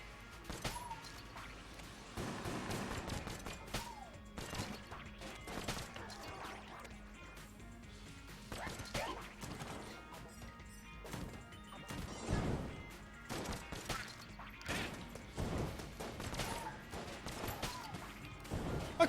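Rapid gunfire from a newly picked-up weapon in the roguelike shooter Enter the Gungeon, bursts of sharp shots and impacts popping irregularly alongside game effects across the whole stretch.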